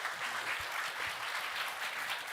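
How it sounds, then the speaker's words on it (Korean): A church congregation claps together during a Sunday service, a fairly soft, steady wash of applause in a large room with no voices over it. "우리 하나님께 영광의 박수."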